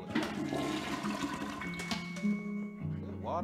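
A toilet flushes in Luigi's Mansion 3 with a loud rushing gurgle of water that swirls and fades, accompanied by steady game music tones.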